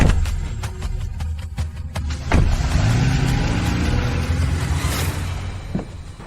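A car engine runs and pulls away nearby, a steady mid-pitched motor hum that rises briefly as it moves off, with a few sharp knocks near the start and no talk.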